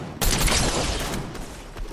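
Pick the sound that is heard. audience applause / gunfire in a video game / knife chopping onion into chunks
gunfire in a video game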